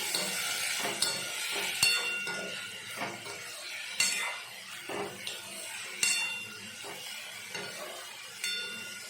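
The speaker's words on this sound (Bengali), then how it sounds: "এবার আস্তে আস্তে আলুটা ভাজা হোক এবং সিদ্ধও হয়ে যায়" Potatoes with salt and turmeric fry slowly in a pan, a soft continuous sizzle punctuated by regular metallic scrapes and knocks of a spoon against the pan, close up and without speech.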